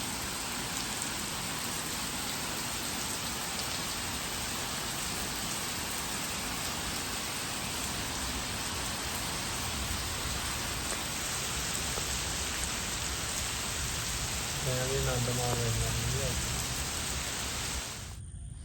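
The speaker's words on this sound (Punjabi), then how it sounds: "ਹੁਣ ਸਾਰੇ ਏਰੀਏ 'ਚ ਮੀਂਹ ਪੈ ਰਿਹਾ" Steady, dense rain pours down throughout, a constant hiss with a faint voice briefly audible underneath.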